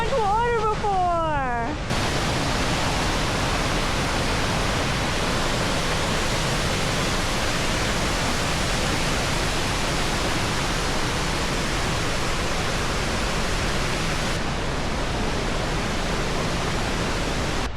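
High water pours over a waterfall at Clifty Falls State Park, a loud, steady, broadband roar that fills the scene continuously after a brief spoken remark at the start.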